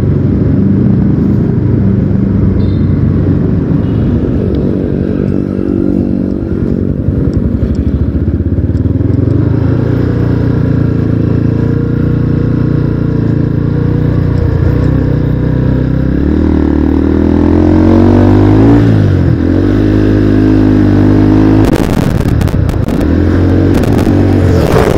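A 2010 Yamaha Scorpio Z 225 motorcycle engine revs up close and loud, its pitch climbing and falling through several accelerations with a rough, continuous roar and some clatter.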